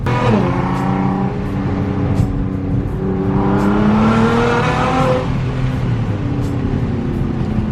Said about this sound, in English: the car's literally cutting out